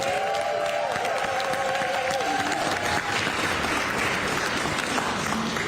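A crowd at a bill-signing ceremony for Washington's millionaires tax breaks into a big, loud round of applause and light cheering, a dense steady wash of clapping, while a tonal sound glides and steps down beneath it early on.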